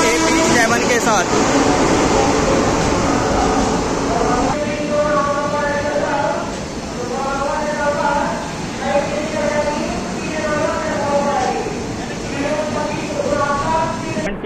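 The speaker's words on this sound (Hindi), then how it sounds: "ये आ गई अपनी जयनगर अमृतसर क्लोन हम सफ़र एक्सप्रेस तुगलकाबाद के" Jaynagar Amritsar Clone Humsafar Express pulling into a station with a WAP-7 electric locomotive, loud rumbling wheels and carriage clatter rolling past up close, with a voice talking over it throughout.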